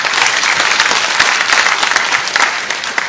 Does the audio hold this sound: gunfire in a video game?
no